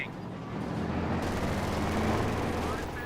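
An MG42 machine gun rattles off a sustained burst in Company of Heroes 2, its rapid, dense fire loud and continuous amid battle noise after a brief quieter opening.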